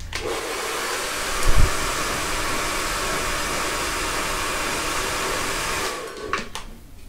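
A hair dryer blows steadily while a fringe is dried back and forth, a constant close whoosh with a brief bump partway through, then it cuts off near the end.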